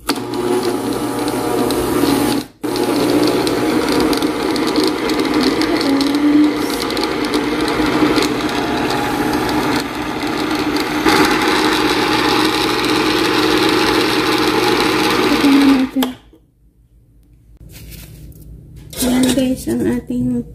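A blender runs loudly for banana cake batter, a steady whirring motor grind close by with rattling contents, cutting out abruptly near the end before a brief restart.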